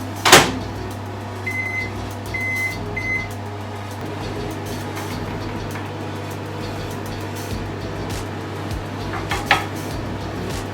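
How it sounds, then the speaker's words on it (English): A microwave oven hums steadily while melting ruby chocolate, opening with a clunk of the door and a few beeps as it starts, then a constant low drone with a small knock later on. "I'm gonna put the microwave 1 minute and to start"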